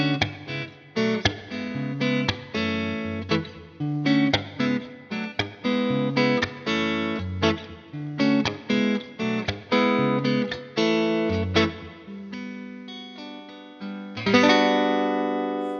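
A mid-range Telecaster-style electric guitar plays clean, articulate chord and single-note phrases with crisp plucked attacks and short decays, then a final strummed chord rings out. It sounds close and solo, with no voices.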